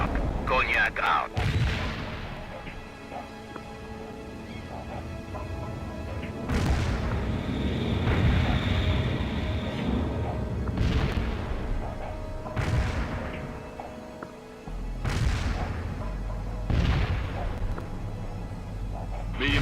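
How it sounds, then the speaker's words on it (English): Heavy booming explosions from a napalm strike in the video game World in Conflict, several deep blasts rolling one after another over a constant low battlefield rumble, with game voices heard faintly in the mix. "Napalm deployed right on the mark."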